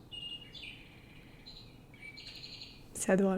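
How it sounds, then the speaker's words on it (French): Soft repeated bird-like chirps and whistles from a cuckoo clock, fairly faint, followed by a voice speaking briefly near the end. "on a un coucou avec un oiseau qui fait du bruit"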